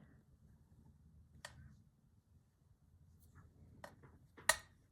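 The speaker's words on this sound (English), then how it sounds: "I hope my ring clicking on that glass is not too annoying for you." A ring clicks against glass during hand stitching on a small doily, giving a few sparse, sharp ticks spread over several seconds, close and quiet over a low background hum.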